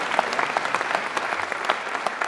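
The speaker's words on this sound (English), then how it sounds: "I think that deserves a round of applause." Audience at a spring convocation ceremony gives a brief, dense round of applause, a steady wash of many hands clapping at moderate loudness with no voices above it.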